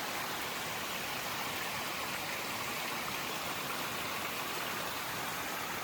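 A flowing stream along the Appalachian Trail gives a steady, close rush of water: a dense, even wash of splashing that holds constant for the whole stretch, with no voices over it.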